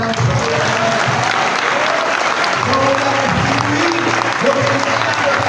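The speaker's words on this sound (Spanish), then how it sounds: "Dale un fuerte aplauso." Loud, sustained applause from a church congregation during a sermon, with voices and tonal sounds rising over the clapping throughout.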